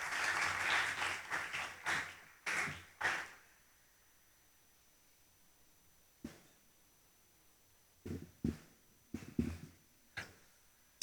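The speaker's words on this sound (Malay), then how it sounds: "Jarang orang ceramah, orang bagi tepukan ni." An audience applauds a speaker introduced at an Islamic religious council talk in Johor, with about three seconds of dense clapping that stops abruptly, followed by scattered single claps and knocks.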